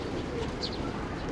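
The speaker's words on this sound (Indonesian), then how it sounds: "Banyak banget burung di sini," Pigeons coo among many birds in a park beside a mosque, soft calls over a busy outdoor wash of background noise.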